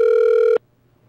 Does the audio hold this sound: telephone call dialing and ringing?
yes